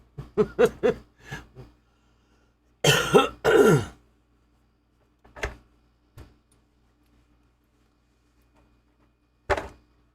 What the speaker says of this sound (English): He's trying so hard to hold his little cough in.